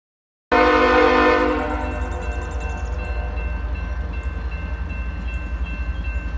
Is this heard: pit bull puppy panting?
no